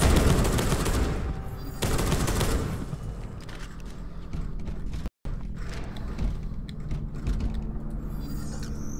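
Machine gun fire in the video game Space Hulk: Deathwing, with dense, continuous rattling bursts, mechanical clanks and creaks, and a brief silent dropout partway through, all loud and close.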